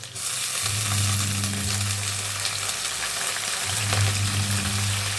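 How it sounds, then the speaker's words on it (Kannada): Sliced onions and fenugreek leaves hit hot oil in a pan for an egg sambar, giving a loud, steady, close sizzle and crackle that holds throughout with no voice. "ಎಣ್ಣೆ ಕಾದಿದೆ ಈರುಳ್ಳಿ ಹಾಕ್ತೀನಿ ಈರುಳ್ಳಿ ಜೊತೆಗೆ ಹಂಗೆ ಮೆಂತ್ಯ ಸೊಪ್ಪು ಹಾಕ್ತೀನಿ"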